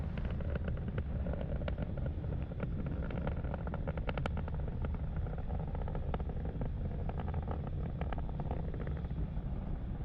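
Falcon 9 rocket climbing through the atmosphere at supersonic speed, a loud, steady, continuous broadband roar with crackling texture that holds throughout, with no speech.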